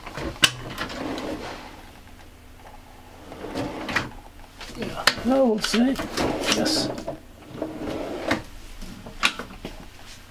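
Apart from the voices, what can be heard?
soft-closing cutlery drawer in a motorhome kitchen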